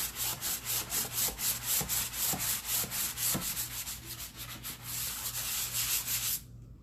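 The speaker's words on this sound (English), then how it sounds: "So I'm sanding the whole piece." Sanding a painted wood piece by hand with 80 grit sandpaper: steady, rhythmic scratchy back-and-forth strokes, close and fairly even, continuing for several seconds before stopping abruptly.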